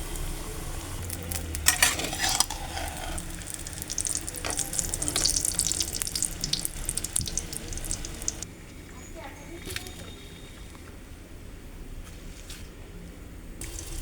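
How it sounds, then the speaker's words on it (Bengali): Eggplant slices coated with salt, turmeric and a little chili powder fry in hot oil with a steady crackling sizzle. The sizzle is louder for the first half, then settles quieter, with a voice talking over it. "বেগুন ভাজছি নুন আর হলুদ একটু লঙ্কা গুঁড়ো মাখিয়ে নিয়েছি"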